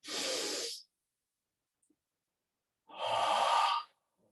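A deep cleansing breath in a relaxation exercise: one long, airy inhale, then a pause of silence, then a fuller, breathy exhale, close to the microphone with no talking.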